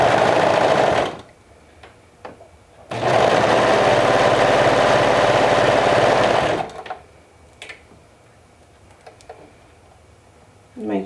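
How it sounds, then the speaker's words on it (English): A sewing machine stitching a sleeve seam with a half-inch seam allowance: two loud, steady whirring runs close by, a short one and then a longer one, separated and followed by quiet fabric handling and faint clicks. "So now we're going to sew the sleeve with a 1/2 inch seam allowance."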